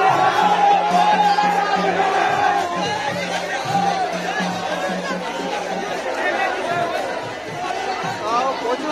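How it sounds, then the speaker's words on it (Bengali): A huge throng of devotees at the Ukhra Rath Yatra fills the air with loud, dense chatter and murmuring, occasional shouts and whoops rising from the crowd, with a nearby voice talking over it. "হাজার হাজার ভক্তগণের ভিড়"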